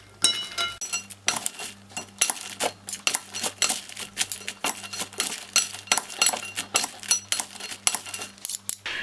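A utensil stirs popcorn coated in melted chocolate in a pan, producing repeated close clinks and scrapes in an uneven, brisk rhythm over a faint background hum, without any speech.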